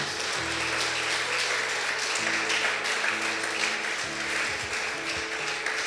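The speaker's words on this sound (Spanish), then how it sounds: "Denle un aplauso a Cristo," A church congregation claps steadily in a dense, sustained patter, with low tones from instruments or a sound system droning underneath.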